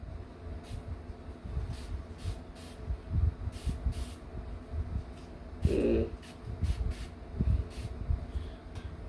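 A small hand sprayer mists water over a rex begonia cutting, giving a series of short, soft, airy spritzes at an irregular rhythm, close by and faint.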